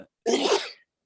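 A single sharp human sneeze, loud and close, with a quick breathy onset and a short burst lasting about half a second, alone without talk.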